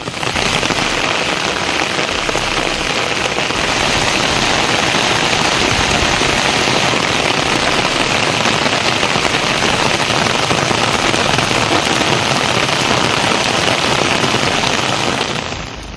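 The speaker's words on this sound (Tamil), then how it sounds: "எட்டயபுரத்தில் இரவில் 1 மணி நேரத்திற்கு மேலாக இடி மின்னலுடன் கூடிய சாரல் மழை பெய்தது" Heavy night rain pours over Ettayapuram in a dense, steady hiss that stays loud and unbroken throughout, with no distinct thunderclap standing out.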